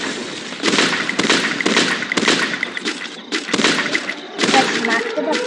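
Bursts of gunfire from a shooting video game, a player camping on high ground going for headshots; several loud sharp volleys in quick succession with brief gaps, busy crackling game noise throughout.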